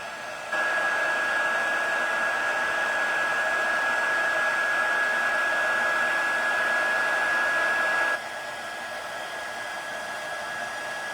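Heat gun melting embossing powder on embossed cardstock: a steady, loud, close blowing whir with a constant tonal whine that runs for about eight seconds, then drops to a quieter hum as it is switched down.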